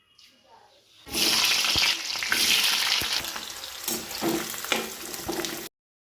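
A loud burst of sizzling frying starts suddenly and hisses steadily for several seconds, with faint clinks and stirring, then cuts off abruptly.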